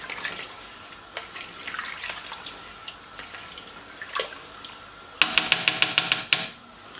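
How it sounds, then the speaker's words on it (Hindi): Water is poured into a pot of rice for mutton tahari, a soft trickle with light clinks, then a louder splashing burst of pouring near the end. "तो इसमें थोड़ा सा पानी डालूंगी"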